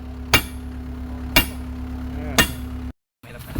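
A hammer strikes a large wheel rim being worked loose: three sharp metallic blows land about a second apart over a steady low machine hum.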